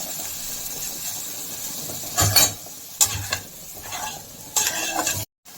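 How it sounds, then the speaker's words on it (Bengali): Ingredients for chire poha, beaten rice cooked with green chillies, sizzle lightly in a pan under a steady frying hiss, while a spoon stirs and clatters in a few distinct bursts as mustard goes in. The sound stops abruptly at the end. "এগুলো হালকা ফ্রাই হয়ে এসছে, এবার দিয়ে দেবো আমি সরষে"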